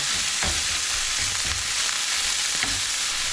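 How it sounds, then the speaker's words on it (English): Meat seasoned with paprika and salt fries loudly in a pan, a dense continuous sizzle with a few dull scraping stirs underneath. "Give that a nice little stir."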